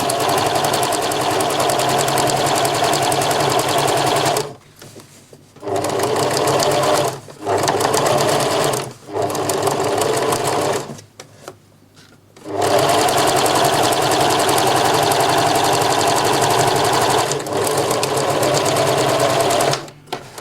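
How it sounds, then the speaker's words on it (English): A sewing machine stitches around the armhole of a sun dress, running loud and close in long motor bursts broken by a few short pauses. "And you've sewn all the way around."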